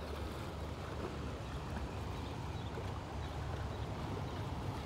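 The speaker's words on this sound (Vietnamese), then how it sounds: "Đó, tàu đưa du khách đi chơi" A tour boat carrying tourists along a river, heard as a steady low engine rumble mixed with water wash and wind buffeting the microphone, continuous and fairly faint throughout.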